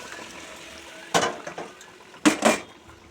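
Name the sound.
pouring boiled mung dal over the spices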